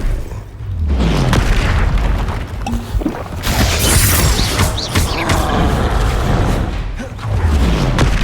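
Confringo explosive spells in Hogwarts Legacy, repeated heavy booms and crackling blasts mixed with whooshing combat effects, loud and close, several bursts across the span.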